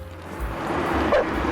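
A cartoon dog in Family Guy, tied up outside on the street, gives a short bark and a whimpering yip over background noise.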